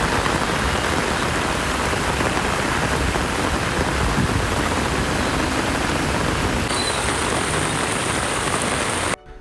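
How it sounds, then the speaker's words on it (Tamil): Heavy rain pours steadily in Tiruvannamalai district, Tamil Nadu, a dense continuous hiss of drops on surfaces that stays loud and even throughout, ending abruptly at the close. "திருவண்ணாமலை மாவட்டத்தில் வெங்கிக்கால், ஆடையூர், நல்லவன்பாளையம், ஏந்தல் உள்ளிட்ட இடங்களில் மழை வெளுத்து வாங்கியது."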